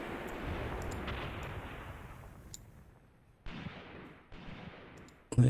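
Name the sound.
artillery fire in the video game Graviteam Tactics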